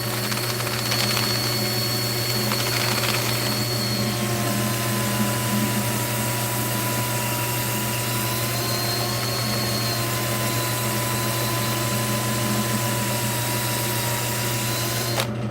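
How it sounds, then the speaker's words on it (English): A worn electric drill runs steadily for the whole stretch, a constant motor hum and whine with a slightly rough, buzzing edge and no pauses. "I think my drill's seen better days."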